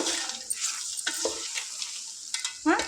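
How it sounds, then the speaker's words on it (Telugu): Goat tripe (boti) fries in a pan with turmeric, producing a steady crackling sizzle with occasional stirring scrapes, fairly quiet and close. "ఇగో ఇలా చిట్టపటం అనేటట్టు ఫ్రై చేసుకోవాలి ఫ్రెండ్స్"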